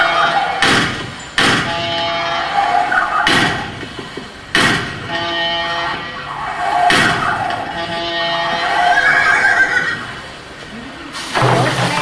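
Loud layered effects of horses in a race: whinnies and snorts, heavy thumps and hoofbeat-like clatter, with some voices mixed in.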